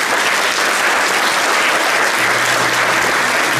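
Dense, steady applause fills a hall as an audience at a regional conference on foster parenthood welcomes honorees to the stage, loud and continuous throughout with no voices above it.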